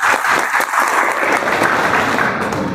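An audience claps steadily at a seminar, a dense sustained round of applause heard close and fairly loud with no one speaking over it.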